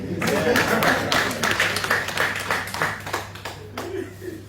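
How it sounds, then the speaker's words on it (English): An audience claps for a man at a public talk, a dense burst of many hands that swells, then thins out over a few seconds, with a voice faintly under the start. "Can we clap for him?"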